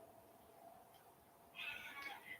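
A cat gives a single short meow, fairly faint, after a quiet stretch, with nothing else prominent around it.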